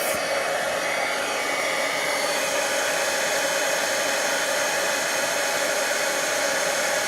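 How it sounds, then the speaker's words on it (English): A heat embossing gun gives a steady, loud blowing whoosh like a hairdryer, running continuously from start to finish without pause. "it's going to sound like a hairdryer, but when we heat it up, you'll be able to see how it melts"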